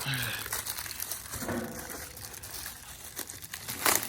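Paper crinkles and rustles close by as napkins are unfolded, with people talking over it.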